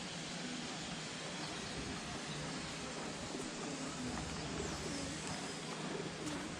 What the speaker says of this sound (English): I hear the pigeons.